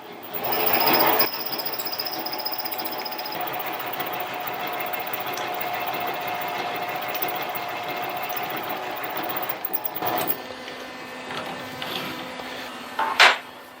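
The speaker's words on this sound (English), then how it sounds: "then I'm going to ream to a 1/2 inch." A mini lathe reams a drilled hole to half an inch, giving a steady motor hum with a cutting whine, a louder burst at the start, and clunks and a sharp knock near the end.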